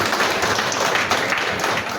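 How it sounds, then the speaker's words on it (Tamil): Audience applause at a Rotary club installation ceremony, a steady wash of many hands clapping together throughout, fairly loud and continuous with no break. "கைத்தட்டலாம்."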